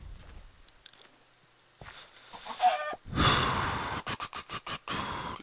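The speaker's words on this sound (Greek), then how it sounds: "Ω, κότα." Chicken clucking in Minecraft, a few short clucks and breathy squawks that build into a louder burst of rapid, choppy bursts near the end, heard alone without talk.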